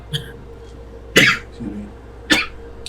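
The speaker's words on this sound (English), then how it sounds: "Does the coughing keep you up?" Two sharp, harsh coughs ring out about a second apart, close and loud, with a smaller throaty sound between them.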